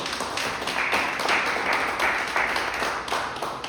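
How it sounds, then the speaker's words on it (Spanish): A church congregation applauds during a Spanish-language sermon, giving a steady, moderately loud wash of many hands clapping with a few sharper rhythmic claps standing out, with no talk over it. "Dale un aplauso al Señor."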